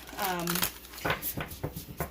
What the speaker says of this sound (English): when I go to shuffle them like this, I have to hold them with my thumb and almost my last finger